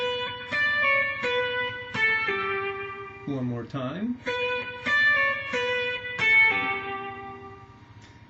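Clean guitar picks out a descending run of quick plucked triplet pull-off notes from Pachelbel's Canon, briefly interrupted by a short spoken phrase before the notes resume.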